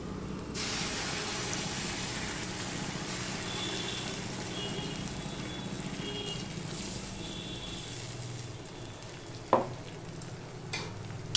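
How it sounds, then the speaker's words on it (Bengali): Pointed gourd paste hits a pan of fried onions and sizzles loudly and steadily at close range, a continuous hissing fry with a couple of brief clanks near the end. "এবার এর মধ্যে যে আমি পটল পেস্ট করে রেখে দিয়েছিলাম আগে থেকে, সেটা আমি দিয়ে দিচ্ছি।"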